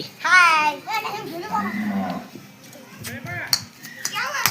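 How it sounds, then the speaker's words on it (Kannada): Buffalo and cattle lowing close by, a drawn-out moo among other animal calls, with children's voices and chatter mixed in. "ಅಲ್ಲಿ ಎಮ್ಮಿ ಕರ ಎತ್ತು ಎಲ್ಲ ಐತೆ ನೋಡ್ರಿ"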